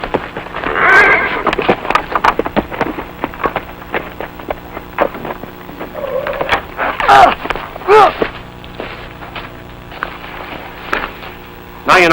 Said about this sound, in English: Muller, quit manhandling those horses. They don't like it any more than you do